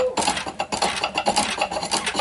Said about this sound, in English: We don't use this on the we usually don't use a chisel like this on the power lathe, but this makes quick work of some wider areas